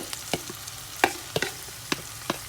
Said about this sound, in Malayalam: ഈ ബാക്കി വന്ന മസാലയില്ലേ അതിനെ ഇതിലേക്കിടാം എന്നിട്ട് ഹൈ ഫ്ലെയിം നന്നായിട്ട് അങ്ങോട്ട് വഴറ്റുക